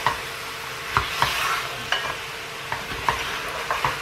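Mutton frying with garlic and ginger at a roadside stall for Kashmiri rogan josh, stirred with a spoon in a steady sizzle; sharp scraping clacks land about every second against the pan, close and fairly loud, with no voices.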